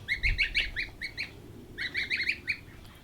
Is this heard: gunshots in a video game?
no